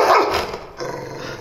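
A pet dog growls and barks angrily at close range, a short harsh outburst that fades into a lower rumbling growl, heard alone without talk.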